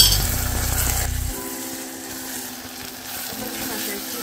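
Onion and chili paste sizzle loudly as they hit a hot pan, then the frying settles into a quieter, steady crackle with faint scraping.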